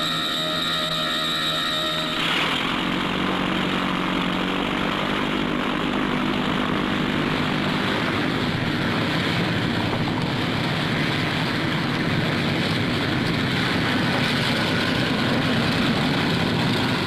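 Propeller aircraft engines of RAF fighter squadrons scrambling drone loudly and continuously, a deep steady roar that thickens after a brief quieter opening.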